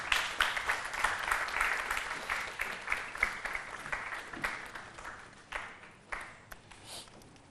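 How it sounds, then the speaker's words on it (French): A studio audience at a French-language television talk show gives a short burst of light applause, scattered claps thinning out toward the end. "De tout petits applaudissements."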